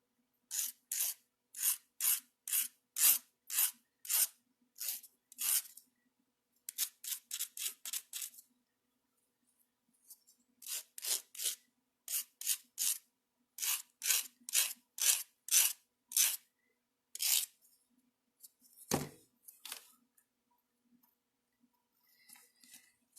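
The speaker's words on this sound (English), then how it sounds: "Oh, I'm going to sand those." Sanding the cut ends of bangle wire by hand, a quick series of short, crisp rasping strokes in rhythmic bursts with brief pauses, close and fairly quiet, plus one soft thump near the end.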